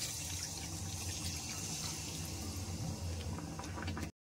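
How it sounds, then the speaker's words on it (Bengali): Hot water is poured into a pan of vegetarian potol curry to make gravy, a steady gushing and splashing stream that runs continuously before cutting off abruptly at the end. "এবার আমি গ্রেভির জন্য এখানে গরম জল একটু অ্যাড করে নিচ্ছি"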